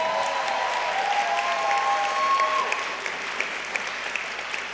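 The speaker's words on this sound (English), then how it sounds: "additional applause should go to Jack Daly" Sustained applause at a graduation ceremony for Jack Daly, a departing choir member, steady dense clapping from a crowd with faint voices and a tonal whistle-like sound in the first half.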